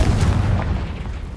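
A Confringo spell explosion in the video game Hogwarts Legacy: a heavy, booming blast with a deep low rumble that holds steady, then slowly fades over a little more than a second, with no voices.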